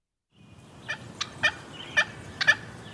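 Wild turkey gobbling in repeated bursts, five or six calls spaced about half a second apart, fairly close and clear over a quiet outdoor background with no talk.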